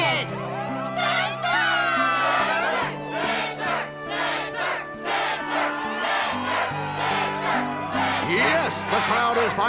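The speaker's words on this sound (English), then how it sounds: "Yes, the crowd is fired up" Loud crowd cheering and shouting from the Struggle tournament in Kingdom Hearts II, a dense, sustained roar with whoops rising over background music for the full stretch.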